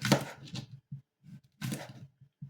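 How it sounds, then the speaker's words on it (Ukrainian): A knife chops young yellow zucchini into large, thick pieces on a cutting board in a home kitchen, producing a few quiet, close thunks and taps spaced irregularly, with near-silence between strokes. "Нарізаю такими не тонкими, досить крупними кусочками."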